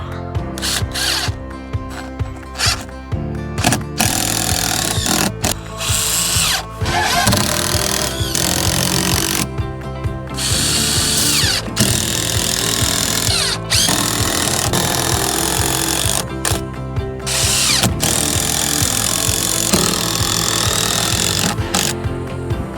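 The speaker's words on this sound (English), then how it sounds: "Now I'm gonna have to hold it up and screw it at the same time." A power drill driving screws into wood on a farm, with loud whirring bursts and short pauses between them, repeated throughout amid clattering handling noise.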